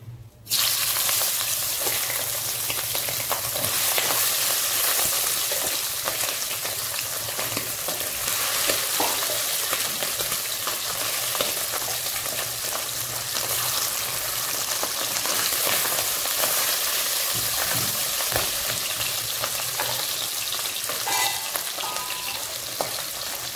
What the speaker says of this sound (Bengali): তেলটা গরম হয়ে গেছে, আমি এবার মাছগুলো দেব।